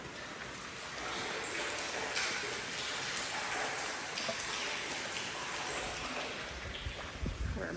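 Rain falls steadily outside an off-grid home site, a soft continuous patter on surfaces with faint scattered drops, heard alone and fairly quiet throughout.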